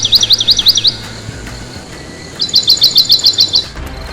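A bird chirps in quick, rapid bursts, a short trilling run at the start and another longer one later, with quiet background between.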